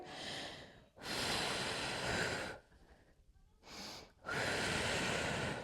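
Heavy, close breathing during an abdominal exercise, with long forceful breaths in and out, a short pause between them, and then another strong breath.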